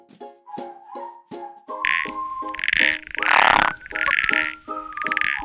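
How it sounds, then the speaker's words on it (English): Frogs croak in a repeating series of short rhythmic calls, joined partway through by a louder buzzing trill and a brief burst of noise, loud and close with no talk. "You can see different kinds of frogs and salamanders here."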